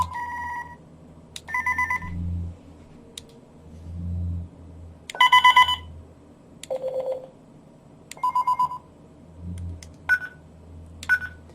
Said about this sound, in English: This is the message tone.